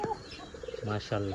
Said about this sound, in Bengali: আমার কক্কা পায়রার ডাক দেখেন